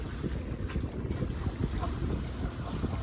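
A sailboat moves slowly at about 1.9 knots on a broad reach, with a steady rush of wind and water washing along the hull. The sound is continuous and fairly loud throughout, with no talk.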